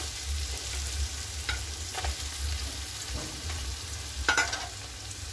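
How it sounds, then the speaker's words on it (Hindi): Fried paneer is stirred in a hot pan with seasoning, a steady close sizzle broken by scraping, clattering stir strokes at irregular intervals, no one speaking. "अच्छे से फ्राई हो रहा है"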